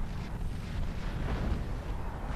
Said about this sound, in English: This is the point where he starts shelling artillery from his new base at my base